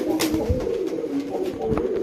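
A tota pigeon, a female high-flyer, coos in soft low repeated notes close by, over a faint background of rustling and shuffling.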